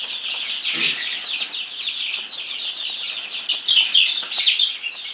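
A dense chorus of high, rapid peeping from many chicks, continuous and close, with occasional shuffling noises underneath.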